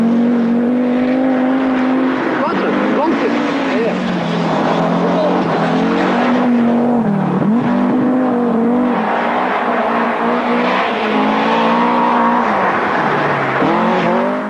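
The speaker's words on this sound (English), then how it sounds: "Blomqvist's right foot remains welded to his throttle pedal. The Swedish Quattro is charging back into contention" Audi Quattro rally car driven flat out through a snowy Swedish rally stage, its engine droning loud and continuous with rising and falling pitch through gear changes, a commentator talking over it throughout.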